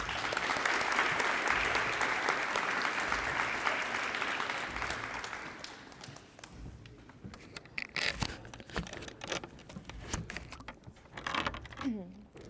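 An audience applauds as Karyna Perez is welcomed to the podium at a letter-of-intent signing, dense clapping for about five seconds that thins into scattered claps and rustling.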